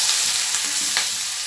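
Moong dal dropped into hot oil along with green chillies, frying in a continuous close sizzle with a couple of faint stirring scrapes.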